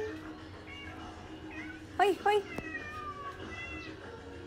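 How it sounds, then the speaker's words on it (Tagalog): Two short, loud cat meows come close together over quiet background noise, with a person speaking softly nearby. "Andyan na naman ang mga pusa."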